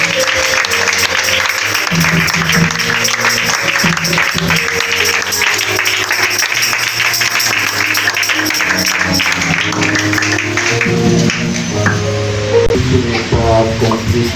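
A church congregation bursts into sustained, loud applause and cheering to welcome a doctor as speaker, with music and voices mixed in throughout.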